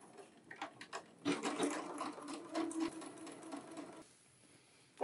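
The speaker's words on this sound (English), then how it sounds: "all you want to do is make sure that you are only stitching the seam allowance to the" A sewing machine stitches a seam allowance to a facing in a loud, close run of about three seconds, with short starts before and a quieter pause after.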